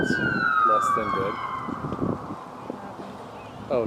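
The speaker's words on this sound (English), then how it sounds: "just the ambulance is coming this way" An ambulance siren approaching during a youth soccer game, a wailing tone that sweeps downward at moderate distance, with crowd voices and shouts over it.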